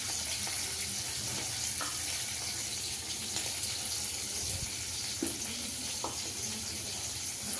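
Fish frying in a pan in a home kitchen, a continuous loud sizzle and spatter with occasional pops and clinks throughout.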